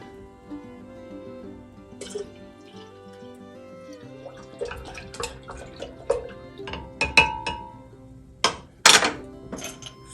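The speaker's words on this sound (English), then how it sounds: "Fill your glasses up." Peach mint iced tea made from unsweetened black tea and orange juice is poured into glasses, with liquid splashing, glass clinks and several sharp knocks, close up and growing busier toward the end.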